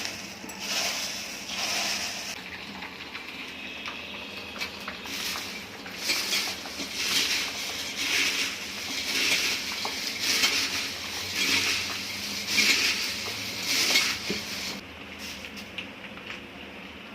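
Maize and poha chivda tossed and stirred in a pan, with repeated dry rattling and scraping swells in an irregular rhythm, close and moderately loud.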